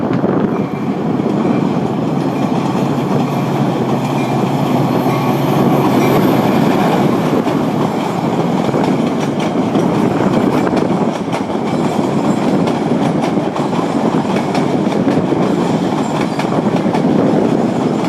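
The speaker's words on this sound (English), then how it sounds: "I love to watch trains." A train rolls past on rails, a steady loud rumble with rattling wheel clatter sustained throughout, with no voices.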